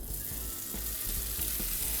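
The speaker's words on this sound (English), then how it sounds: "I'm just gonna add the tofu right to the cast iron pan now, okay? So it is ripping hot." Tofu sears in oil in a ripping-hot cast iron pan, a steady loud sizzle and crackle that fills the moment without pause or voices.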